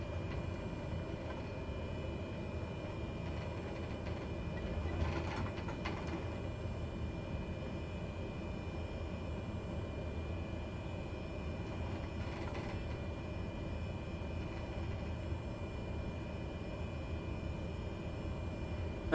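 Cessna 208 taxiing in Microsoft Flight Simulator: a steady, low turboprop engine drone holds throughout, with brief swells of louder noise near five and twelve seconds and no voices.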